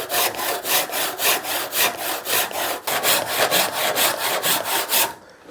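A hand saw with a candle-waxed blade cuts wood for a chopping board in steady, rhythmic back-and-forth strokes, each rasping pass loud and close, about a dozen strokes before stopping.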